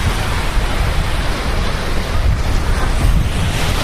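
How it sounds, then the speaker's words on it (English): Waves wash onto Songdo beach in Pohang, South Korea, as a constant loud roar of surf mixed with heavy wind buffeting the microphone. "we are on the Songdo beach"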